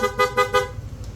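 A Yamaha NMAX V2 motorcycle horn gives three quick, evenly spaced toots close by, then falls silent as a low engine idle continues underneath.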